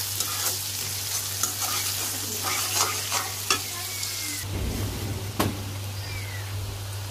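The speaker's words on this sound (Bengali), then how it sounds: "পেঁয়াজ কুলি দিয়ে দিছি, এটাও ভালো করে ভেজে নিব।" Sliced onion and green chili sizzle in a pan over a constant low hum, with repeated clinks and scrapes of stirring and a louder clatter partway through.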